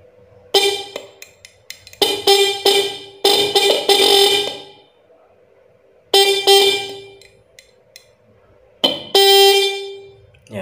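Budget high-tone car horn sounding in several loud bursts, some short toots and some held longer, with gaps of quiet between them, close by.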